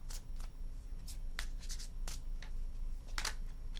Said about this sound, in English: I'm going to start off with the Divine Goddess Oracle deck